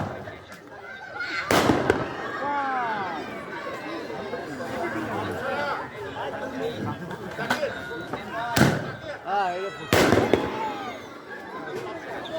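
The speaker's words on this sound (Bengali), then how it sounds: "আতশবাজি ফুটানো হচ্ছে সেই দূর আকাশে" Fireworks at an outdoor picnic burst in the far sky as a handful of sharp cracks and booms spread across the scene, heard under steady crowd chatter and nearby talking.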